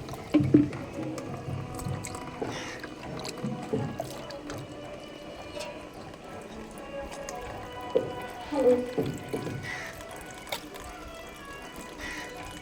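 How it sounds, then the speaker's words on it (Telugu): Goat tripe is squeezed and washed in plenty of water, giving soft wet squishes, drips and occasional splashes close by while a person talks throughout. "అందుకని ఇది అలా పిసుకుంటూ ఒక 3 times 4 times అలా కడుక్కోవాలండి. ఎక్కువ నీళ్ళతో కడుక్కోవాలి."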